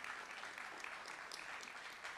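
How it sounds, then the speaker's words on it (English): Audience applause at a Bank of America homeownership summit, a short burst of dense, even clapping from a crowd, fairly distant and quiet, with no voices over it. "Give yourselves a round of applause because you're here."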